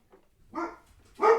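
A dog gives two short barks with a low rough growling edge, separated by a brief pause, close and fairly loud against near silence.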